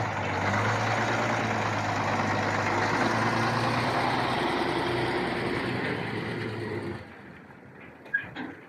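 A truck engine idles after sitting unused for seven months, a steady low rumble heard close and continuous for about seven seconds before it drops away, followed by faint sounds of nearby activity.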